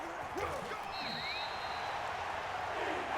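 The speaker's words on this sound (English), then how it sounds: "The crowd getting into it as we come up on a big 3rd down." A stadium crowd roars and cheers steadily in a 49ers versus Eagles football video game ahead of a big third down, a broad wash of noise with a few whistles and shouts rising through it.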